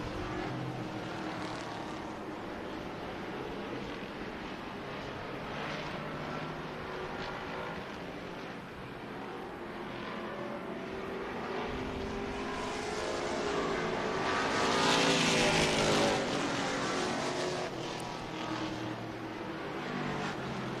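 Modified race cars at Tucson Speedway roar past in a continuous engine drone that swells to a loud peak near the end as the pack passes close, then eases off.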